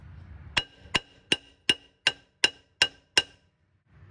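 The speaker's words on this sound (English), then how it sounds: "you grab a hammer and you hammer the rotor like this" Eight sharp metallic hammer blows ring out in an even rhythm on a rusty rear brake rotor of a Hyundai Tucson, each clanging strike followed by a brief ringing decay.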